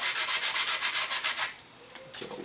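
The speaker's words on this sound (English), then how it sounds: "get a light sanding there" Model airplane wing parts for a Micro Deamon pylon racer get a light sanding, about a dozen quick rhythmic strokes of close, loud scratchy rubbing, then a near-silent pause with faint handling sounds.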